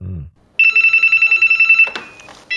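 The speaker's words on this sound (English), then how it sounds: "there is a long, long, long wait until the phone rings" A telephone rings close by with a fast, warbling electronic trill lasting over a second, then stops, with a brief voice before it and a short clatter and another burst of ring after.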